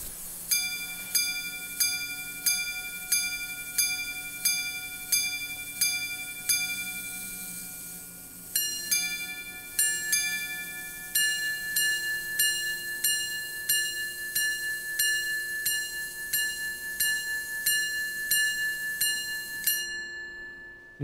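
A minute repeater pocket watch chimes a long series of tiny, bright bell strikes in even rhythm, first single tones, then paired ones, clear and close.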